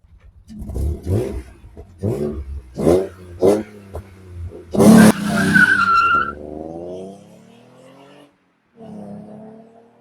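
A car with an air induction kit launches hard in a 0 to 60 run, the engine roaring in rising bursts through the revs, a sharp tire squeal, then the sound winding down and fading.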